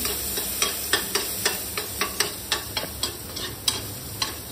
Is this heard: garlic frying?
yes